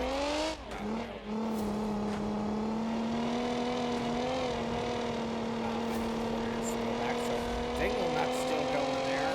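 Race cars in a BeamMP multiplayer race event hold a steady, high, droning engine whine with slight pitch shifts, loud and continuous. A brief dip in the middle sounds like a shift or a lift off the throttle.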